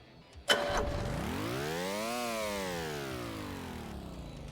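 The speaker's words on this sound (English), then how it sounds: "I keep stalling it because the engine's overheated." An overheated train engine in a video game cranks with a click, then winds up in pitch and sags back down as it fails to catch and stalls. The engine sounds close and steady, with no talk over it.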